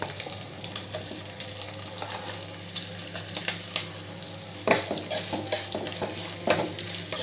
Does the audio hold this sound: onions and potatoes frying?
yes